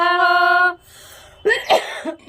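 A sustained tonal sound gives way to two sharp, harsh coughs close by, followed by a brief rough throat sound.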